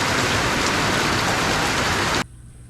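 Steady, loud rain pours down continuously, then cuts off abruptly near the end, leaving near silence.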